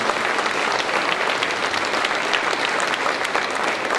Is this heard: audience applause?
yes